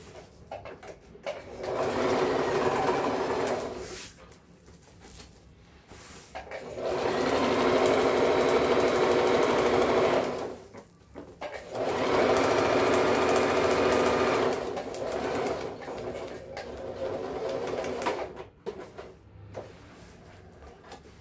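A sewing machine stitches the lining of a waterproof thermal lunch bag in four separate runs, each a buzzing whir of a few seconds, separated by pauses with small handling sounds.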